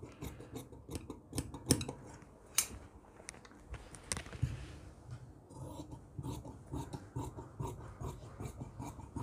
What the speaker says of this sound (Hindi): निशान लगाने के बाद में ये देखिए इसको इस तरीके से काट देंगे।